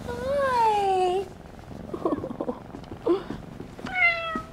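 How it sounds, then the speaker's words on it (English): A cat meows close by with drawn-out, falling cries, then a softer stretch of purring and small sounds before another meow. "It's a kitty cat."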